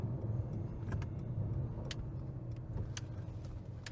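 A 2017 Mercedes-Benz C63 AMG V8 drones steadily from inside the cabin while driving, a continuous low engine rumble with road noise and a few faint clicks over it.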